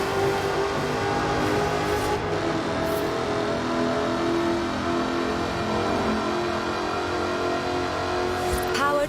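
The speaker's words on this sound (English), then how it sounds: "Powered by a 5-litre V8 supercharged engine, with a fully aluminium body, it's blisteringly fast" A 5-litre supercharged V8 in an aluminium-bodied car in the racing game Forza Horizon 4, a loud, sustained engine drone that holds steady and rises in revs for about nine seconds.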